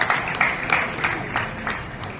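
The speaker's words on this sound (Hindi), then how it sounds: "आप लोग तालियों से माननीय मुख्यमंत्री जी का स्वागत करें।" An audience applauds to welcome a chief minister at a competition event, a steady crowd clapping with soft rhythmic swells throughout.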